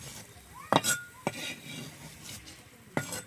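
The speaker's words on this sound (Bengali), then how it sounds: "সব আলুটা আমি তুলে নিচ্ছি।" Fried potatoes being scooped out of a pan with a metal utensil, with a few sharp scrapes and clinks against the pan and a faint sizzle of oil between them, close and clear.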